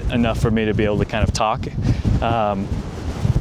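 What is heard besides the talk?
strong gusty wind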